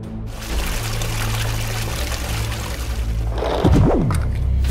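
Water pours out of a soaked wristwatch in a steady wet splashing stream, rising to a louder gush near the end over a busy background.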